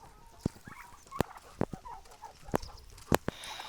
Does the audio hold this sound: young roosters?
yes